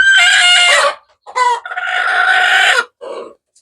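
A broody hen lets out loud, drawn-out agitated clucks and growling calls up close, three or four bursts separated by short silences.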